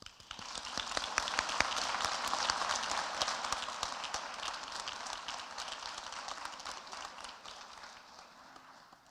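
Sustained audience applause at an academic award presentation honoring graduating seniors, dense clapping from a large crowd that holds steady for several seconds and then gradually thins and fades toward the end.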